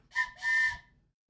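A person's voice imitates a train whistle during a miniature-painting stream: two breathy, whistle-like blasts, a short one followed by a longer sustained one, close and fairly loud, then quiet.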